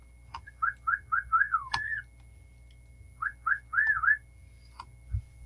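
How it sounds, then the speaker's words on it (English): A pet bird whistles indoors in two bursts of quick, repeated rising whistle notes with a few short chirps, close and clear against a quiet room hum. "That's my bird talking to us."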